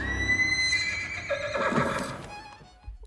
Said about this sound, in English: He brought back the ghost horse.